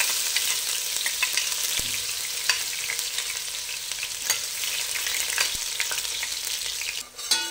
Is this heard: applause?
no